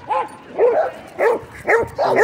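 Corgis at a dog park barking in a rapid series of five sharp, loud, close yips and barks, evenly spaced with brief pauses between them and no talk over them.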